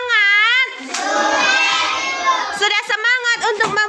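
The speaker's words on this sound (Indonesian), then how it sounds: "Tepuk tangan untuk kita semua." Children in a Year 5 classroom clap their hands together in a burst of dense, close clapping that follows and overlaps lively young voices chanting and chattering.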